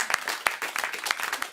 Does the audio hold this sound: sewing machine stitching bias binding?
no